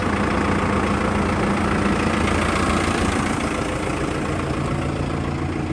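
A loud tractor engine, a TR5110, idles steadily throughout, a continuous low rumble with a faint knocking texture and no voices.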